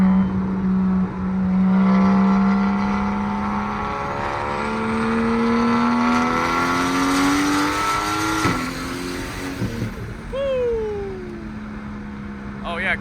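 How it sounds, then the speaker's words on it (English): A straight-piped BMW 335is with a big single turbo revs hard and accelerates, its loud rising engine note sweeping up through gears on a road toward Reno, Nevada, before easing off with a brief shift and a car passing. "big single turbo coming through"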